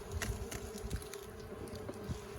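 Honey bees hum steadily around an opened hive during a winter check, a close, continuous buzz with small taps and brief bursts of louder wingbeat.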